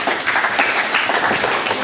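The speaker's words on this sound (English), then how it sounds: "give them a round of applause there" Applause from participants at a children's Gaelic games coaching workshop, a brief, fairly loud burst of clapping with an uneven texture over its short length.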